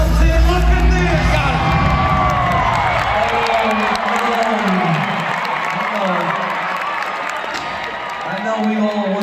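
A large rodeo crowd at a stock show roars, cheers and whoops loudly and continuously, with a voice talking over the din.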